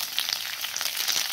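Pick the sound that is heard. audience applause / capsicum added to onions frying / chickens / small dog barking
capsicum added to onions frying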